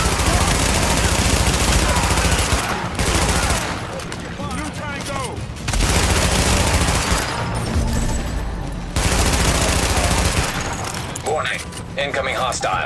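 Sustained automatic gunfire fills a Tom Clancy's The Division firefight, loud dense bursts broken by short pauses, with radio-style game voice callouts over the shooting.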